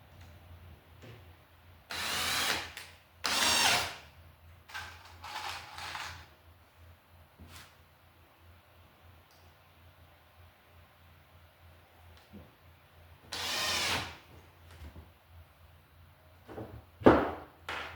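A power drill bores a hole in a store showcase electrical box for a green ground screw, heard as short loud bursts of drilling separated by quiet gaps and light handling clatter.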